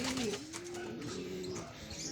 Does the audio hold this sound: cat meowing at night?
no